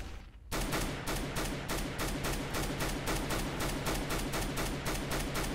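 A PP-Bizon submachine gun in CS:GO fires a long, rapid unbroken burst of evenly spaced shots, loud and close, running the whole stretch after a brief quiet start.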